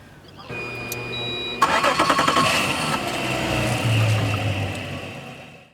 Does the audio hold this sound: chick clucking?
no